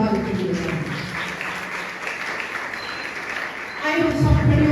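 A church congregation claps and cheers continuously, swelling louder toward the end, with a preacher speaking over the applause.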